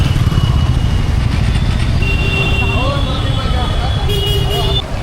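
Road traffic on the route to Kondeshwar waterfall near Badlapur, with a steady rumble of engines and several drawn-out vehicle horns honking over the top, close and loud throughout.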